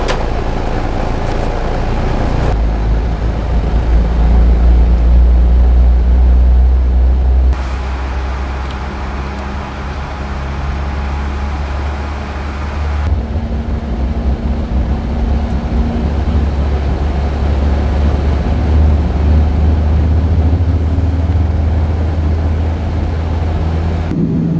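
Boeing 787-9 on its delivery flight, engines starting up as a loud, continuous low rumble and roar that shifts in level a few times over the span, with no talking.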